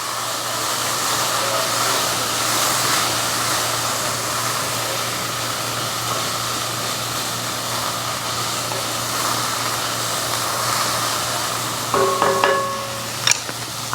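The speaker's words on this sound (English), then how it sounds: "I'm going to let those continue to saute for just a minute" Garlic sautés in a pan for a lasagna casserole, giving a steady, close sizzling hiss that carries on evenly, with a few brief clinks near the end.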